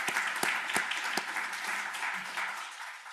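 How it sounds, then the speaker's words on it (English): An audience applauding at a tax career panel, dense steady clapping that carries on for the whole stretch with no voices over it. "give them a round of applause"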